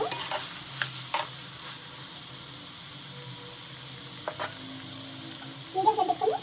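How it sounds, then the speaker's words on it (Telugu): Brinjals (eggplant) for guthi vankaya frying in oil in a pan, a quiet sizzle with sporadic stirring clatters and a brief busier burst of spatter near the end. "ఆయిల్ బాగా ఫ్రై చేసుకోవాలండి వంకాయలు"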